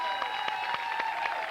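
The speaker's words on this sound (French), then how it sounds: "on les applaudit, s'il vous plaît" Brief applause for a singing group, claps landing in a steady rhythmic pulse over sustained music in the background.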